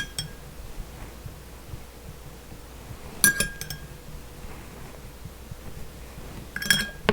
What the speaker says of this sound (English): So we'll give that a little stir.